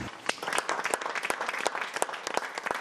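Cooking workshop participants applaud their own dishes, a short burst of lively hand clapping from a small group indoors, moderately loud with a few sharp individual claps standing out.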